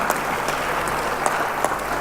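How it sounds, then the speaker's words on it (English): An audience at a legal-practice conference session claps in sustained applause, a dense, even wash of many hands filling the room without a break. "That definitely deserves a round of applause."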